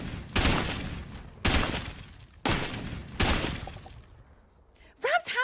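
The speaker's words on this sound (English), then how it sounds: "Rab went to work, smashing asteroids the size of football stadiums to pieces with the might of his iron gore hammer." An iron hammer in a radio play smashes asteroids to pieces, heard as four loud, evenly spaced shattering crashes with glassy debris trailing off, followed by a short burst of voice.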